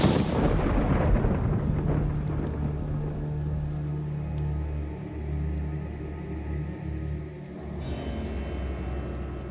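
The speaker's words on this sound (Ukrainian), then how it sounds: "Гуркіт грому, мабуть, сильно заглушав його голос" Deep, rolling thunder rumbles continuously, loud and heavy, with a sharper crack near the end, and no voices.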